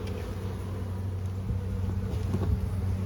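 Honeybees from a weak hive give a steady low droning hum with faint buzzing of individual bees, continuous and close throughout, with no talk.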